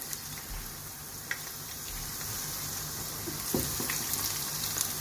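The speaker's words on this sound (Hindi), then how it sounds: "तो इसको भी फ्राई कर लेंगे।" Chicken frying in oil for Chicken Manchurian gives a soft, steady crackling sizzle, fairly faint and close, with a few small pops and stirring knocks and no speech.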